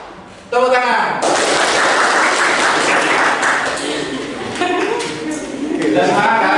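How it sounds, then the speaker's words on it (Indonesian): A classroom of students bursts into sustained group applause, loud and close, with many overlapping hand claps holding steady for several seconds, plus a few voices calling out over the clapping. "Tepuk tangan."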